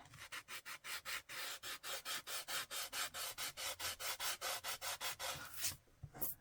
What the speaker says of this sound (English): And take my sanding sponge.